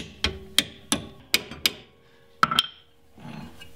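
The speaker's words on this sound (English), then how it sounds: "then hammer it in." Sharp metallic hammer strikes ring out up close as a leaf spring clip is driven in, about eight blows in uneven bursts, followed by a brief softer scraping sound.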